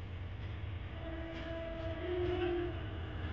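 Train passing beneath a bridge, a faint, steady low rumble with a thin sustained whine or distant horn-like tone rising midway, heard from some distance.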